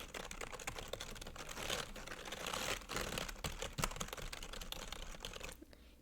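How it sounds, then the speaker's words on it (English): Continuous rapid typing on computer keyboards, a dense stream of close, crisp key clicks with a few louder taps, steady for nearly six seconds before dropping off at the end. "if you like listening to the soothing sounds, the very soothing sounds of keyboards"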